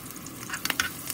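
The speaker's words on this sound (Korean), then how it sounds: "아까 전에 총총총총 잘게 썰어둔 대파를 이렇게 먼저 넣고 볶아주세요" Finely chopped green onion is stir-fried in cooking oil and sesame oil in a hot frying pan, a brief close sizzle with a few soft scraping strokes and no voices.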